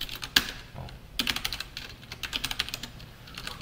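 Computer keyboard typing while writing Java code, a quick close clatter of keystrokes in uneven bursts, with a sharp first tap and then a steady run of lighter presses.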